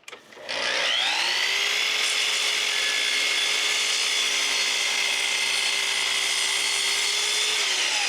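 A power saw spins up and cuts steadily through wood for a photo shelf, a loud, continuous whining rasp lasting several seconds close by.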